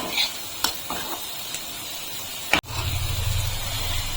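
Bottle gourd peel with turmeric being stirred in a pan, giving a soft sizzling hiss with a few light scraping taps, then a sharp knock and a louder, fuller sizzle after it.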